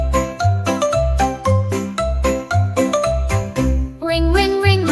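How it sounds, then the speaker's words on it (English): A bicycle bell in a children's nursery rhyme about bikes rings with bright, tinkling chimes over a bouncy music track, repeating steadily throughout and turning into a quick shimmering trill near the end. "Ring, ring, ring, my bell so sweet."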